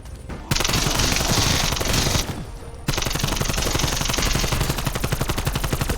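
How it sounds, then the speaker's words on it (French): Automatic gunfire in the zombies mode of Black Ops Cold War on the Fire Base Z map: long, loud, rapid bursts with a brief pause between them, close and with no talk over them. "Qui c'est qui tire en bas là?"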